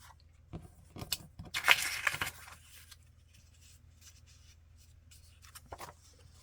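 Scissors snip through paper while a frankenpaper journal card is being made. A few quiet, close cuts and rustles come in short bursts in the first seconds, followed by near silence with faint handling noises.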